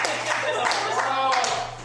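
A comedy club audience claps in a steady patter of hand claps throughout, with a comedian's voice talking over it.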